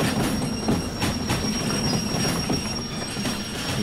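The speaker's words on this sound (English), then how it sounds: "we'll just go ahead and stop the train here." Steam locomotive in the Derail Valley game braking to a stop on its rails, a loud continuous rumble of wheels and rolling stock with faint squealing and a steady high whine near the track.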